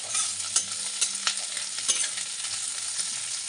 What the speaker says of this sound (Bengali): আমি পাট শাকটা একটু নেড়ে নেব